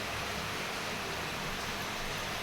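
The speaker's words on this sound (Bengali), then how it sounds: "আর এখন বৃষ্টি একটা নামছে দেখেন" Rain pouring steadily on a wet day outside a home kitchen, a dense, even hiss of falling water that stays constant and fairly loud throughout, with no voices.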